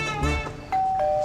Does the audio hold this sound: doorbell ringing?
yes